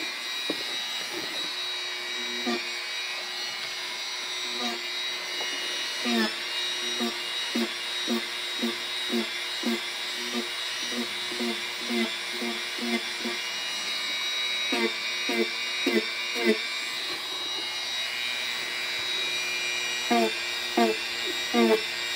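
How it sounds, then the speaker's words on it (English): Dremel rotary tool at speed 15 with a medium grit head sanding a cosplay Batman cowl, a steady high-pitched whine running throughout with repeated rhythmic scraping pulses as the bit works the surface. "going to use my Dremel to help ease this out a little bit"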